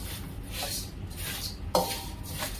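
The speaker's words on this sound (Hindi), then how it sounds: "ये बड़े तसले में इसके लिए डालती हूँ, फटफट ठंडा हो जाता है" Roasted whole spices tipped into a large metal pan, a soft rattling pour with a brief clink of metal near the end, quiet and without talk.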